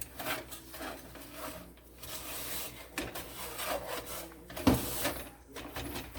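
A spoon stirs thick caramel in a hot pot over medium heat, producing repeated close scraping and rubbing strokes in an uneven rhythm, with one sharper knock near the end.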